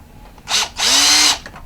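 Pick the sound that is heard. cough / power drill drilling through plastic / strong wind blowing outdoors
power drill drilling through plastic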